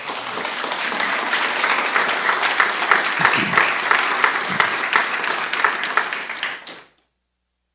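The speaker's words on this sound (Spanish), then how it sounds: "Denle el mejor aplauso a Dios." Sustained congregational applause during a church sermon, dense and steady clapping from a large crowd for about seven seconds before cutting off abruptly.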